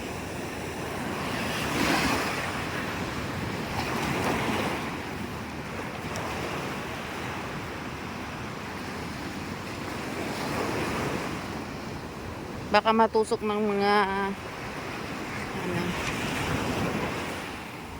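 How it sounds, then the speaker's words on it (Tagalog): Ocean waves break and wash steadily onto a shell-strewn beach after a typhoon, with a roaring surf and wind noise throughout. A short burst of a person speaking rises over the waves midway. "Wow, ang ganda ng alon."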